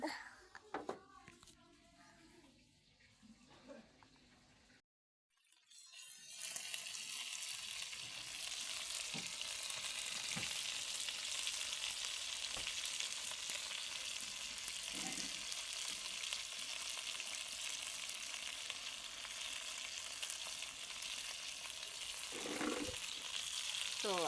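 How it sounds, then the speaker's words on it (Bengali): Fish fry in hot oil in a home kitchen. After a short stretch with some voices and a brief near-silent gap, a loud, steady, close sizzle takes over and runs continuously to the end. "আম্মু মাছগুলা ভাইজা নিতেছে"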